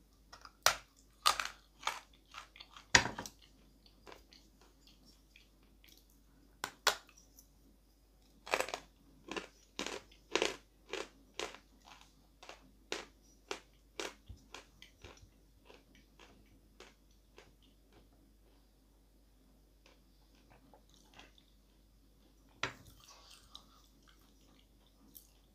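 Chalk being bitten and chewed, crisp dry crunches at irregular intervals, close and fairly quiet against a silent background, no talking.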